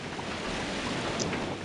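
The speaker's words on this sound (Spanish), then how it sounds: "esas olas son impredecibles" Ocean waves wash steadily in the Paper Mario: The Thousand-Year Door video game, a soft continuous surf with a faint breezy hiss, fairly quiet and with no speech.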